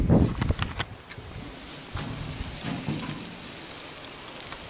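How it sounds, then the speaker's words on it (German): Rain begins to fall in stormy outdoor weather beside a grill, a steady wash of patter lasting throughout, with a few louder thumps and rustles near the start. "Jetzt fängt es an das Regnen an"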